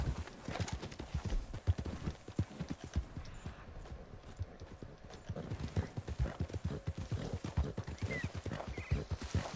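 Steady clip-clop of horse hooves trotting at a quick, even rhythm, fairly close, with an occasional whinny and no talking, from the video game Red Dead Online.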